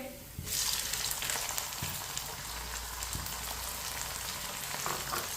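Finely chopped tomatoes hit a pan of garlic for a masoor dal, setting off a loud, steady sizzle that carries on with a few soft stirring knocks. No talking is heard.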